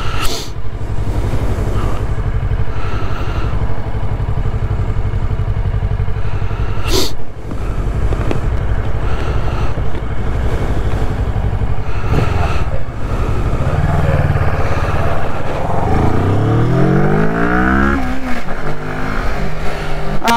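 A Kawasaki ER6n motorcycle accelerates on a road, its engine loud and close with steady drone, a brief gear change, then rising revs sweeping upward as it pulls hard, wind noise throughout.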